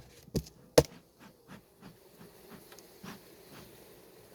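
Honeybees drone faintly around a hive being smoked, a low soft buzz running through the background, broken by two sharp knocks near the start and a few lighter taps.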